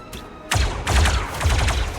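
Gunfire in the Star Wars Zero Company video game: a faint early pop, then a loud volley of rapid blaster-like shots from about half a second on, continuing in dense bursts to the end.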